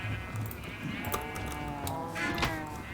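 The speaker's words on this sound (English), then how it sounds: "the sheep need to be culled" Sheep bleat in Minecraft Bedrock Edition on PC: several overlapping game sheep calls, moderately close, sound over a steady bed of background game ambience across a few seconds.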